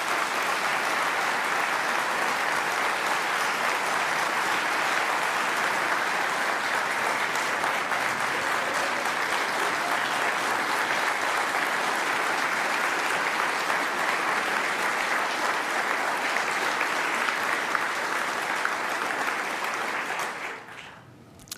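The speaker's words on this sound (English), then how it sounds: "you can clap for that." Sustained audience applause at a Pentagon Medal of Honor ceremony, steady and full for about twenty seconds before fading out quickly at the end.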